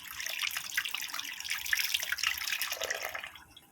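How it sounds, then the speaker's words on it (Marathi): Tap water runs steadily as soapy hands are rinsed under it, a close, continuous splashing hiss that fades out toward the end, with no talking. "आता मी धुतो ते."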